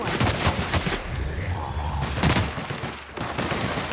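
Rapid bursts of gunfire from The Outer Worlds video game, loud and close, in repeated volleys over a few seconds, with no talk over them.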